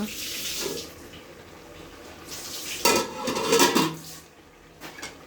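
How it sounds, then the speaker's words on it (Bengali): A lid set over a pan of cooking cauliflower and tomato vegetables, with a soft sizzle followed by a close metallic clatter and scrape of the lid on the pan, then quieter frying. "এবার ঢাকনা দিয়ে ঢেকে নেব।"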